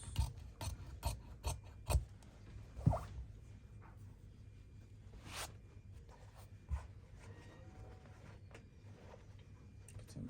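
Suit canvas fabric being cut, with a run of soft crisp snips and scraping rasps close by, spaced irregularly and quiet, with no voices.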